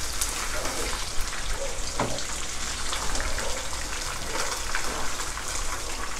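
A large tilapia fries in hot oil that has been salted, giving a dense, continuous crackle and sizzle at close range with no talk over it.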